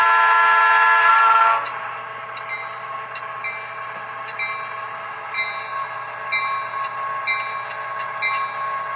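An HO scale DCC Southern Pacific SD9 model locomotive sounds its horn, a loud sustained blast that then drops to a quieter steady rumble with intermittent short horn-like tones, no talk over it.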